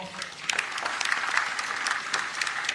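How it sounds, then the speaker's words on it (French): An audience applauding at an official ceremony with a general as guest of the labour and tourism minister, dense continuous clapping from a sizable crowd, fairly close and even throughout. "Et je voudrais qu'on l'acclame très très fort."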